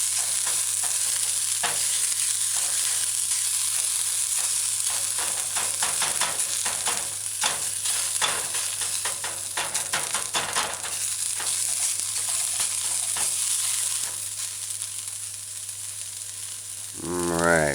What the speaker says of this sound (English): You just use a spatula and kind of stir fry the onion, diced onion and scallion